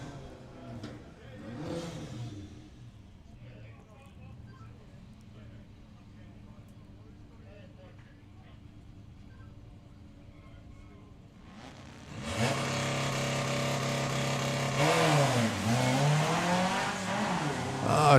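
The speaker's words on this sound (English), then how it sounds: "the Baja Bug of Steve Metcalf taking on the Golf GTI of Joshua Lee" A Baja Bug and a Golf GTI launch in a drag race at a summer nationals meet, engines bursting in loud and close after a quieter stretch of distant crowd and idle noise, roaring and building to the end.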